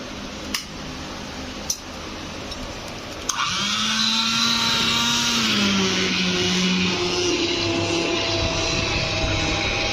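An electric blender churns cooked lentils (dal) after a few light knocks. The motor then starts and runs loud and steady, its pitch dipping slightly as it works.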